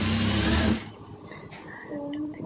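A sewing machine stitches a blouse puff sleeve in a fast, loud whirring burst that stops abruptly after under a second, leaving quiet handling sounds.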